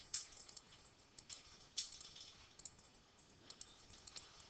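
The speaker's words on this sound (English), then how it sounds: "You start clicking in here." A computer mouse clicks quietly in an irregular series of sharp, light taps, close and faint against low background noise.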